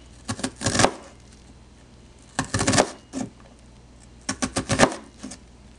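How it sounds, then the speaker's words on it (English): A knife dices an onion on a cutting board in three short bursts of quick, crisp chopping taps separated by brief pauses, close and fairly loud. "you can make these cuts as wide or as narrow as you want for the dish you're making"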